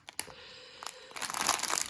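A zip-lock bag of diamond painting diamonds being opened, giving a soft plastic crinkle that builds into a brighter, steady rustle of the seal pulling apart, close and alone.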